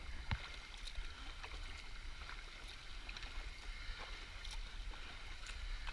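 A paddle dips and pulls through water beside a wooden boat, giving soft, steady splashing and trickling with no speech, under faint wind and outdoor ambience at a boat show.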